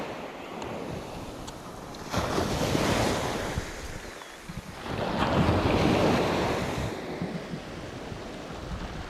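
Strong coastal wind and surf roar during shore squid fishing, a steady rushing wash that swells into two louder surges of waves and gusts, with no voices.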